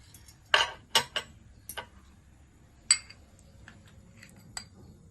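A metal kadai set down on a stove gives a few sharp clinks and taps, close and isolated against near silence.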